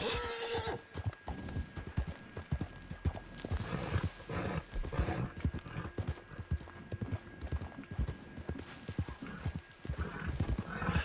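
A horse in Red Dead Online whinnies near the start, then its hooves clop in an irregular rhythm, close and fairly loud, with no talk over it.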